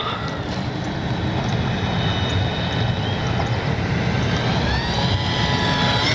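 An RC model Horten BV-38 concept bomber with an electric motor flying overhead, a steady continuous motor whine over wind noise, moderately loud and unbroken, with no talking.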